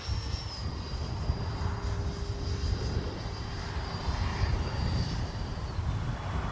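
A Freewing A-6 Intruder RC jet flying in windy conditions, a steady whining engine tone with a high pitch drifting slightly, under constant wind rumble, no voices.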